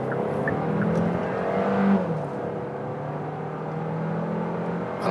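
A European-spec Kia Sportage accelerates in sport mode on the Autobahn, its engine note climbing through the gears with a smooth whirring drone and wind and road noise, close and steady, with no talking.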